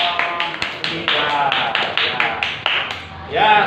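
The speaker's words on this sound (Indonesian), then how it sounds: "Beri tepuk tangan untuk kelompok 3." A short round of clapping from a classroom group, rapid and uneven, lasting a few seconds with a voice briefly rising near the end.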